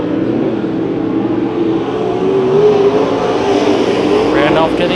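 Race cars battling in a heat race on the Santa Maria Raceway dirt track, engines droning and rising together in a loud, continuous roar while an announcer talks over the action.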